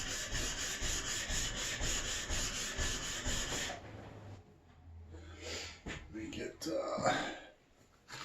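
A skew paring chisel's back is ground on the coarse side of a sharpening stone, giving a loud steady rasping rub for about four seconds before stopping, followed by quieter handling noises and talk.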